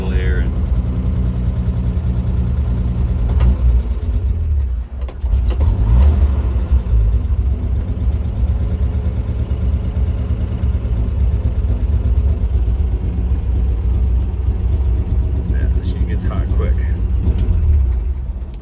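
A 1956 International S-160 4x4 truck engine idles steadily with a loud, continuous low rumble, slightly uneven as if from a vacuum leak, with a brief dip midway and no speech.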